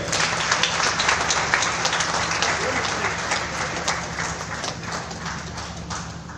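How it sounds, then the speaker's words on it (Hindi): An audience at a Diwali special-issue release ceremony applauds, a dense, steady patter of many hands clapping close and loud, gradually easing toward the end. "मैं सबसे विनती करूंगा कि इनके लिए तालियां बजाएं"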